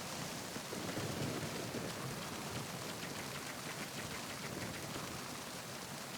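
Steady hiss of heavy rainfall from the Metal Gear Solid 2 video game, a continuous, even wash of rain with no voices, fairly quiet.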